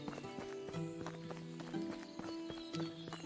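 Donkey hooves clip-clop in the medieval survival game Medieval Dynasty, a steady run of close hoofbeats over layered game music, with no talking.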